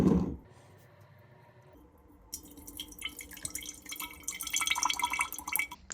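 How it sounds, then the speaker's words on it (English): Homemade mirabelle plum liquid is poured into a bottle: after a quiet start, a thin trickling stream begins and grows into a fuller, gurgling pour near the end, close and fairly soft. "I pour the extracted liquid into a bottle."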